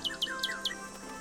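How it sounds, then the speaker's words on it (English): A bird in the Nancy Drew game Ghost Dogs of Moon Lake gives four quick, bright chirps in an even rhythm, followed by a softer trailing call over a steady background hum. "See, there's another bird."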